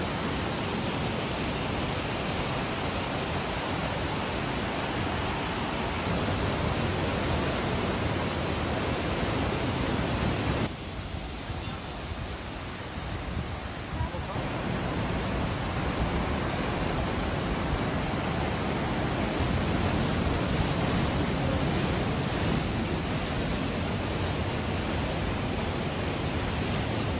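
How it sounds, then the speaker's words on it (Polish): A steady, dense roar of rushing water from the Varone waterfall near Riva del Garda, Italy fills the whole clip, broad and loud, with a brief softer patch midway. "A tu już dojechaliśmy do głównej atrakcji na ten dzień, czyli do wodospadu."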